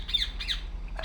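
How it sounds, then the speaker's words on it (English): Harsh bird squawks in the video game République, three sharp calls at a steady pace, loud and close over a low steady background hum. "What the hell's up with that bird?"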